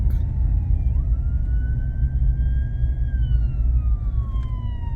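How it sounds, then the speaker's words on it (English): Ambulance siren on a snowy mountain road near Lake Tahoe, a steady wailing tone sweeping up and down over loud low road rumble, fairly close and continuous. "ambulance."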